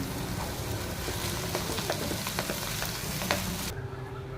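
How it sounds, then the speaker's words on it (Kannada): Malabar spinach greens sautéing in a hot tempering with tomato: a dense, steady sizzle close up that runs throughout and stops abruptly just before the end, with no voices. "ಸೊಪ್ಪು ಹಾಕಿ ಒಗ್ಗರಣೆಗೆ ಹಾಕೊಂಡು ಬಾಡಿಸ್ಕೋಬೇಕು ಸೊಪ್ಪು"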